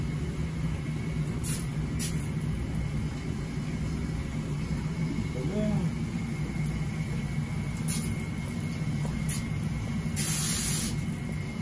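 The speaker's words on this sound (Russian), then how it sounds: "И также напыляем на всю поверхность детали." A hand sprayer hisses activator solution onto a reflector part in several short bursts, with a longer spray near the end, close and fairly quiet over a steady background hum.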